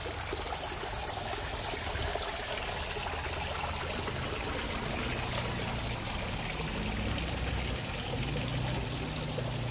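The entrance water feature of a homestay in Ubud, Bali, gives a steady, fairly loud stream of water pouring and splashing without pause, with no voices.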